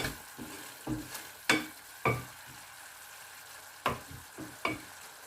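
Salmon sauce bubbles in a covered pan, with soft popping and a few sharp clicking bursts over a low sizzle.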